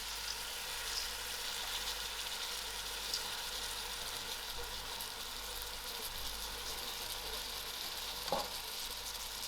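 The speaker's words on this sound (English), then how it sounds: "I will allow this to fry for a few seconds." Lentils frying in a pan, a constant close sizzle and crackle at low level, with one brief clink of stirring near the end and no talking.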